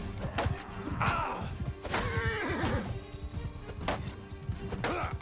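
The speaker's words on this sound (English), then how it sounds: "I think I got the horse on that one." Horse whinnying in Mount & Blade 2: Bannerlord after being struck in a two-on-two melee, the neigh rising over clip-clop hooves and thuds of combat, loud and close amid continuous battle noise.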